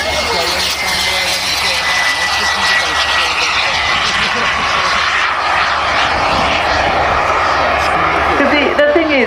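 A turbine-powered British Aerospace Concorde model aircraft flies at a model show, its loud, steady jet whine sustained throughout while someone talks over it.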